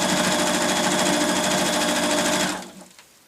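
A sewing machine runs steadily, stitching a quarter-inch seam across the bottom of a layered patchwork section, a continuous loud whirring hum that stops abruptly near the end.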